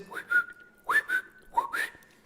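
Short whistled notes in three quick pairs, rising then holding, fairly quiet and close with no talking.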